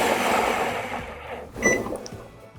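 Blender pulsing plain yogurt, salt and black pepper into a dressing: a steady, fairly loud whir for about a second and a half, then a short, sharper burst before it stops.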